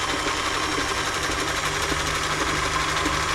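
A Singer 348 sewing machine sews a fine short stitch quite fast, a loud steady whirring hum with rapid even needle clatter running continuously and close up, with no voices.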